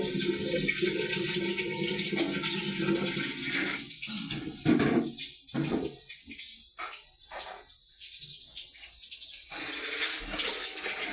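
Water runs steadily from a tap into a bath indoors, a continuous close splashing rush whose tone shifts partway through as the flow changes.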